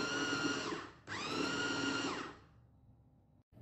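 Blender grinding cooked lentils for an egg burger patty, a loud steady motor whine that cuts out briefly, restarts, then winds down to quiet near the end.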